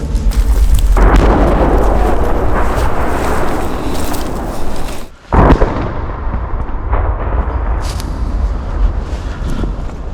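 A loud, sustained blast roars for several seconds, cuts out abruptly, then a second sharp boom is followed by a long rumbling tail outdoors, from the demolition of an unexploded guided aerial bomb.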